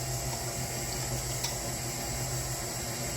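Water poured into a bath bomb mixture, a steady continuous splashing rush that stays even throughout, close and fairly loud with no talk.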